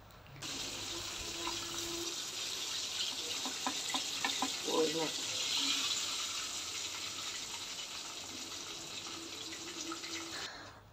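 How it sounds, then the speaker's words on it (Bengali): Chicken deep-fries in hot oil in a kadai, a continuous broad hiss that swells slightly in the middle and holds steady, with faint voices briefly underneath. "আর এখানে ভাজা হচ্ছে"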